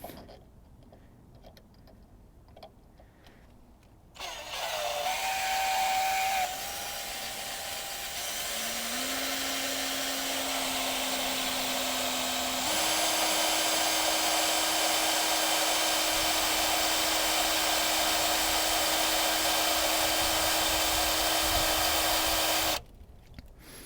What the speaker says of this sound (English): So we're going to go down all three of these with a 1/8 inch bit, get it down to about 1/4 inch.